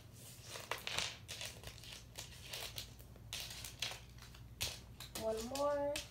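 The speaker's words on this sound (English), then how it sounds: "So now I'm going to put at least 3 more cards." Plastic cards slid one after another into a Louis Vuitton key pouch, giving irregular soft crinkling and scraping rustles, close up, with a brief voice near the end.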